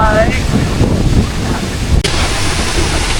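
Strong wind at a large waterfall in Iceland buffets the microphone with a loud, rough rumble, layered over a broad rushing roar of falling water; a brief voice sound appears at the start.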